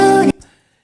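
A short organ chord layered with a faint plucky marimba-like tone, sounding loud for about a third of a second before cutting off abruptly, leaving a brief soft decay and then silence.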